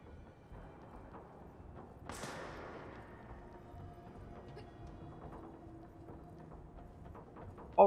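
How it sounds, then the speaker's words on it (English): A sniper fires in the video game Control. One sharp, loud crack with a ringing, fading tail cuts through an otherwise quiet, low background. "Who's shooting at me?"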